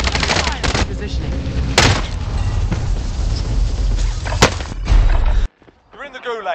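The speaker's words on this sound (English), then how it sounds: "Taking fire over here!" Heavy gunfire and explosive booms in Call of Duty: Warzone, with sharp shots over a dense roar that stops abruptly near the end before quieter game sounds and speech.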